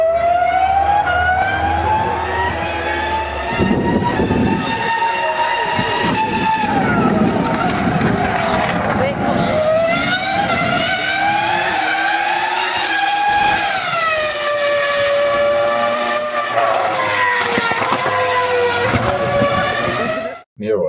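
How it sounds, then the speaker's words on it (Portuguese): Formula 1 V10 race cars at Silverstone in 2005 scream past with high, rising and falling engine wails, several passes loud and close, sustained for about twenty seconds. "a gente já estava ouvindo o som do carro, do som do V10"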